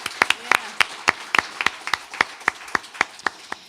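A small audience claps for a performer at a live radio music show, a sparse, uneven scatter of distinct handclaps, loud and close, with no talk over it.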